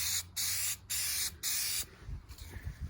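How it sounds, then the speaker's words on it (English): Three bursts of aerosol spray hiss as clear coat is applied to a 2017 Chevy Silverado's color-matched door panels, each short blast separated by brief pauses, then quieter rustling handling noise. "let's go ahead and spray some on here."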